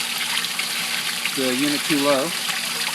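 Water spills over the weir at the back of a Cetus sieve unit, a steady broadband gushing wash that runs throughout while someone speaks briefly over it.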